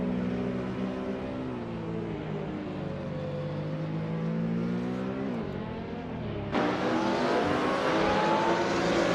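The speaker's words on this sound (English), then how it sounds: "Oakswell Fei driving a 2018 Ford Mustang GT4" A 2018 Ford Mustang GT4 race car in a racing video game: a loud, steady engine drone holds throughout, its pitch rising and falling as the car accelerates, then a sudden jump in intensity near the end.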